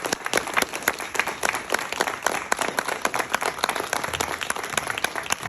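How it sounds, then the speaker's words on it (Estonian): Audience at a school medal presentation claps steadily and continuously, a close, dense rhythm of many sharp hand claps with a light crowd murmur beneath. "Ja meie plaksutame seni kaua, kui antakse medaleid."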